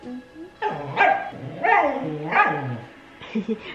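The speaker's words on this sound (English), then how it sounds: "Yes, you are a big dog." A big dog barks several times in quick succession, close and loud, with yelping, whiny edges between the barks.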